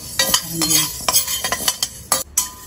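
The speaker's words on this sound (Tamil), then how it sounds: "இது ஈவனா எல்லா சைடுமே வறுபடுறதுக்கு கைவிடாம கலரிக்கிட்டே இருக்கணும்" A spoon stirs urad dal dry-roasting in a pan for murukku, a run of irregular scraping strokes and clinks over a faint sizzle, close and clear with no voices.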